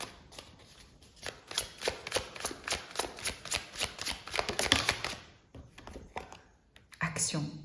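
Tarot cards shuffled by hand for a reading, a steady run of crisp riffling flutters close up for about five seconds, then a pause and a brief final burst, with faint talk underneath.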